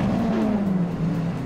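A Lamborghini-style car engine in the Roblox game Jailbreak revs loud and close, its droning tone sliding downward and wavering as the motor winds back, continuous through the short moment.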